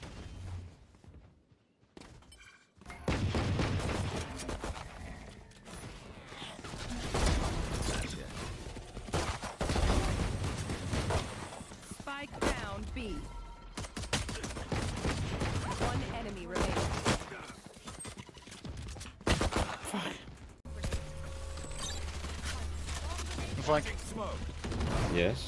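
Pistol fire in the Valorant video game, scattered single shots and short flurries spread through a busy, loud stretch of game sound, with brief quiet gaps.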